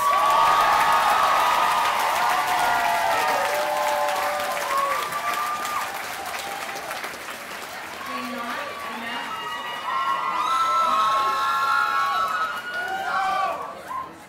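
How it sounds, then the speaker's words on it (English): A large crowd at a graduate commencement ceremony applauds steadily with scattered cheers and whoops, the clapping swelling again near the end. "let's give a round of applause to our MPA graduates."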